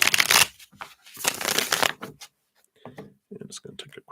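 Tarot cards being shuffled, a dense papery riffling and slapping for about two seconds, followed by quieter intermittent handling sounds and light clicks.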